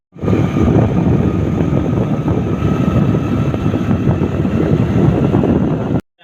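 A Honda Activa scooter engine runs with a loud, close, steady rumble, roughened by wind buffeting on the microphone, then cuts off abruptly just before the end.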